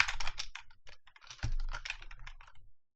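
Fingers type C# code on a computer keyboard in quick, close clicks, one dense burst then a short pause and a second run of keystrokes, with no voice.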